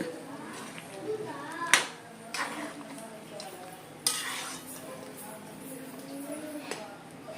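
A spoon scrapes and clanks against a metal pot a few times while chicken curry bubbles and simmers, with a voice talking over it.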